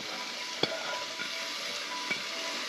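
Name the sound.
sauteing carrots, celery and onions with mushrooms in pan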